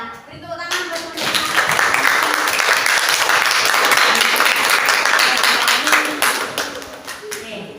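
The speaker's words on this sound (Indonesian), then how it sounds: "Beri tepuk tangan buat teman-teman" A full room at an Indonesian career-orientation event breaks into strong applause, many hands clapping in a steady, dense wash that swells, holds for several seconds and then tails away, with faint voices underneath.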